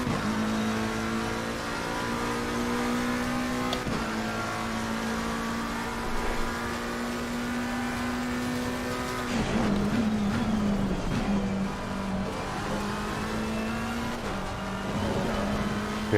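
A race car in the video game Assetto Corsa Competizione laps the Paul Ricard circuit, its engine droning steadily with a few gear changes and brief tire noise, continuous throughout.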